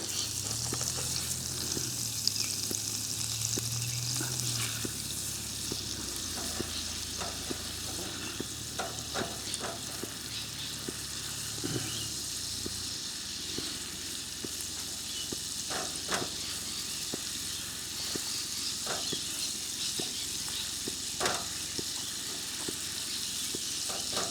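Grated garlic sizzling in a pan on a camp stove, a soft steady frying hiss with light scrapes and clinks of stirring scattered throughout, fairly quiet and without talk.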